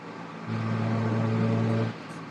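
A steady, loud engine drone holds for over a second, then cuts off, with a low rumble continuing around it.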